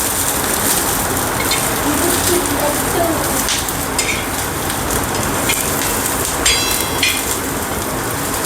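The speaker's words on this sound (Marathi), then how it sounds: "आपला कांदा परतून झालेला आहे." Onion sautéing in a pan for cheese butter masala, giving a steady, dense sizzle that runs the whole time at even loudness, with faint clinks over it.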